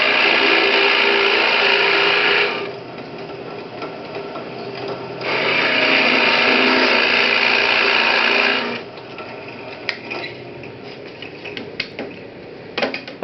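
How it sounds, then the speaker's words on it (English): A drill press with a plug cutter bit bores teak wood plugs in two sustained, loud cutting runs, each a few seconds long, with quieter spinning and scattered clicks and knocks in the gaps between them. "bit, drill press, and really this is just a matter now of running these down"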